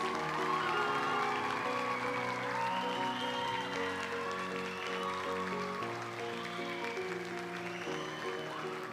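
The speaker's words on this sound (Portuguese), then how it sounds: "eu queria uma salva de palmas bem calorosa para todas as pessoas que trabalham com projetos sociais" An audience gives a warm, sustained round of applause at a Sul em Dança 20th-anniversary talk, a moderate, continuous patter of clapping with tonal music underneath.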